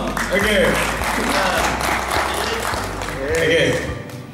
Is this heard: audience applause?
yes